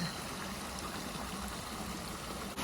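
A small stream flowing along the Appalachian Trail near High Point State Park, a faint, steady trickle and wash of water over rocks with no voices.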